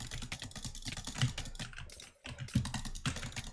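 Rapid butterfly clicking on a computer mouse during a game, a fast, dense run of close, sharp clicks with one brief pause near the middle.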